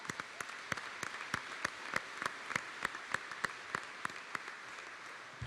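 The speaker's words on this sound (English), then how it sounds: "first round of applause to everybody for that" At a college commencement, a small crowd claps for the drum singers with sharp, evenly spaced hand claps that ring out distinctly in a steady rhythm over a quiet hall.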